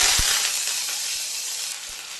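Mustard seeds and curry leaves sizzle steadily in hot oil for a curry tempering, a loud continuous bright hiss with a few soft low pops, no voices.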